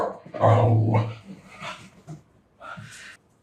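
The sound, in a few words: dog barking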